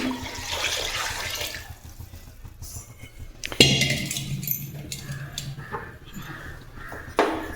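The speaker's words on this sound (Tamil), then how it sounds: "இன்னொரு கிண்ணி தண்ணி ஊற்றிடலாம்." A bowl of water is poured into a pot of mutton and rice for biryani, a close steady stream with splashing, followed by clinks and light kitchen handling noises.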